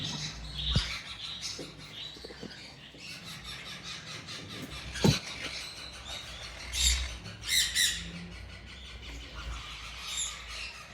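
Green and blue monk parakeet breeder pairs in an Islamabad pet aviary give scattered harsh squawks and short chirps, some sharp and close, with quieter rustling between calls and no speech.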